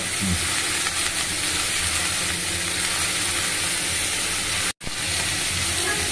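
Bottle gourd and soybean curry sizzling steadily in a pan, a dense continuous fry hiss with low stirring rumbles, cut by one brief dropout near the end.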